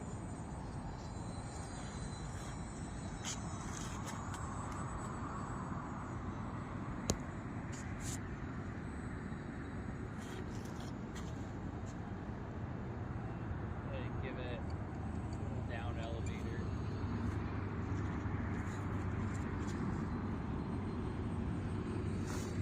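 A homemade UMX Turbo Timber RC airplane flies steadily at about 40% throttle. Its motor gives a continuous mid-distance whine under outdoor wind noise, with someone talking over it.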